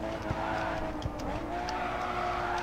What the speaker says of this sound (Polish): Pięknie, jak się cudownie jeździ tym Nissanem.